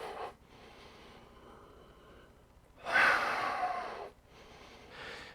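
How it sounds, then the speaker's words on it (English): A deep breath drawn in during yoga practice, audible as a louder, airy inhale that swells near the middle and fades after about a second, amid quieter breathing before and after. "Breathing in deeply."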